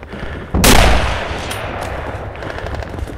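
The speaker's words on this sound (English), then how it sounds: "I missed a shot" Gunfire in the multiplayer shooter game Pavlov erupts as one loud, close shot with a long rumbling tail, followed by fainter distant reports and crackling.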